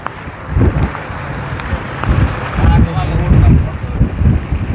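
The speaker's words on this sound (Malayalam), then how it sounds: "നല്ല കാറ്റുണ്ട്." Strong wind buffets the microphone in heavy, uneven low gusts that swell and fade repeatedly, in hot weather in Kannur.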